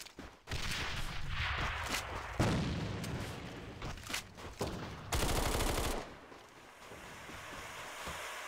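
Video game combat with a thrown grenade produces a loud, noisy explosion blast, bursts of gunfire and crackling rumble that fade toward the end.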